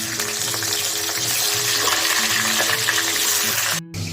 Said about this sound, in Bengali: এবারে মাছের মাথাগুলো দিচ্ছি